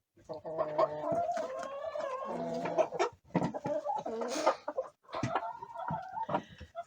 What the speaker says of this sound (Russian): А здесь наши курочки.